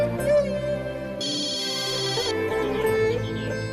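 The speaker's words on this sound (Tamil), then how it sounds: "ஃபோன் பண்றாங்க. பேசுங்கண்ணே." An incoming-call ringtone from a mobile phone plays loudly and alone, a bright repeating electronic melody that changes pitch partway through, set in a Tamil TV serial scene.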